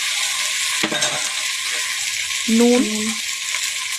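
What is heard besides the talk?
onion and tomato frying and being stirred in a pan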